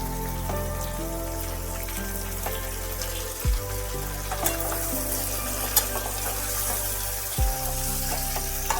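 Green peas and potatoes fry in hot oil in a pan with a continuous crackling sizzle, broken by a few sharp pops and occasional stirring knocks, with no talking.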